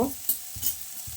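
Soft sizzling of onions frying in a pan with a few scraping stirs at regular intervals, close and fairly quiet, no voices.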